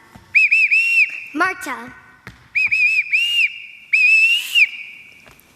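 Short shrill whistle signals blown in a house to call children, sharp rising and warbling blasts in three bursts, with a brief voice naming someone between them.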